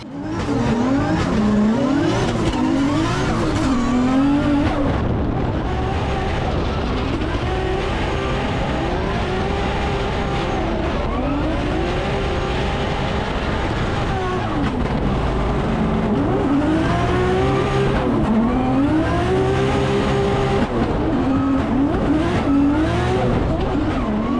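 Drift cars chase each other through a competition run against French and Italian drivers, engines revving hard and rising and falling continuously with squealing tires, loud and close throughout.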